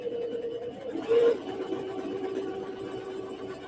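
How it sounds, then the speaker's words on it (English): A Singer Sew Mate 5400 sewing machine runs in a steady mechanical hum while stitching, with a brief louder whir partway through, close and moderately quiet, no talk. "I'm just going to be pressing my presser foot to sew"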